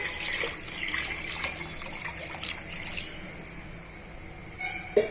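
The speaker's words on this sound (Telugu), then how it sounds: "ఇప్పుడు నేను రెండు లీటర్ల వాటర్ని కూడా యాడ్ చేస్తున్నాను" Water poured from a container into a cooking pot of fried onion and green chilli for chicken dum biryani, a steady close splashing wash that runs for about three seconds and then settles into a softer trickle, with no talking.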